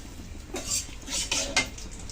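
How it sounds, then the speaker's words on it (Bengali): Dried red chillies, cumin and bay leaf hit hot oil in a pan, giving a continuous soft sizzle under repeated light metallic clinks of a spoon against the cookware. "আমি দিয়ে দিচ্ছি শুকনো লঙ্কা আর জিরা, তেজপাতা দিয়ে দিলাম"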